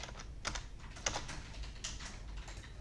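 Keys on a computer keyboard are tapped in short, irregular bursts of soft clicks at close range, quiet and with no one speaking.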